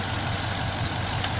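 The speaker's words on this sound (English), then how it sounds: "core engine running good. It just has a misfire on cylinder 1" A 2020 Dodge Charger Police 5.7L HEMI with 110K miles idles with a misfire on cylinder 1, a steady, rough low rumble with an uneven, faintly knocking beat, continuous throughout.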